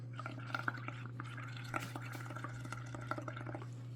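Bubbles blown through a straw into a mix of ink and water, giving a soft, continuous bubbling gurgle with small pops close by over a low steady hum.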